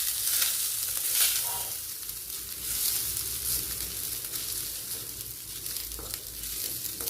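Cooked rice mixed into puliyodharai tamarind paste in a pan with the stove switched off, soft crackling and sizzling with gentle scraping stir strokes, continuous and close.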